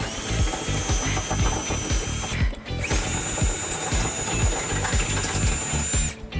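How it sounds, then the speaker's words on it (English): Power drill with a 1/2-inch bit boring a bolt hole in the frame of a 2005 Dodge Neon for a trailer hitch, a loud, steady close-up whir with rattly grinding and two brief pauses, no voices. "we've stepped up to a 1/2-inch bit to create the final size to fit the bolt"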